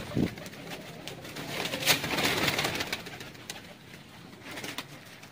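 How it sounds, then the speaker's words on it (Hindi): Fakir Gul and Sialkoti fancy pigeons coo softly at close range. Low, throaty calls repeat over a brief stretch, with light rustling and no talk. "फकीर गुल कबूतर का है मौजूद जी, फकीर गुल भी है, सियालकोटी भी है।"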